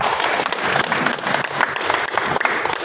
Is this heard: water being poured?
no